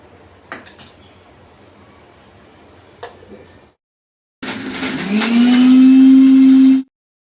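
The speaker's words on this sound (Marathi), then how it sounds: "पाणी न टाकता 1 चक्कर फिरून घेणार आहे मिक्सरला" A mixer grinder whirs almonds, cashews and dates without water. A few light clinks come first, then after a pause the motor starts loud and close and hums steadily for a couple of seconds before cutting off.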